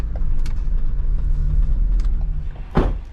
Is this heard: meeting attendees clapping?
no